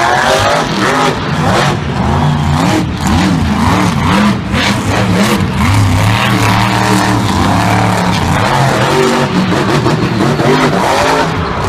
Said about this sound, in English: next up, we have Lindsey Wink in the Lucas Oil Crusader